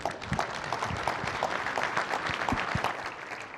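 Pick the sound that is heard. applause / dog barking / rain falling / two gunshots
applause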